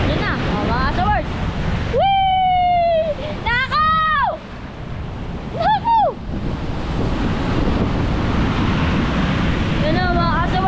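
Heavy storm surge waves on the Bucana coast roar and crash in a constant loud wash, mixed with wind buffeting the microphone, while a voice calls out in Filipino over the din.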